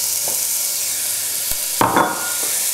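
Onions dropped into warm olive oil in a pot, a soft steady sizzle with a couple of brief stirring scrapes and knocks near the end, close and moderately loud.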